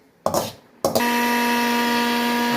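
An electric mixer grinder jar grinds cooked spinach into paste: two short bursts, then a loud, steady, high-pitched motor whine that continues to the end, close with no talking.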